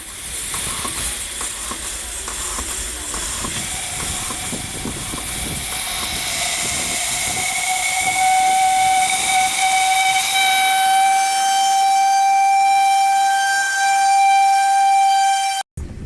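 A loud steam whistle from a steam train beside a river in Tierra del Fuego, Ushuaia, rises and holds a long, steady shrill tone over continuous hissing steam, cutting off abruptly at the end.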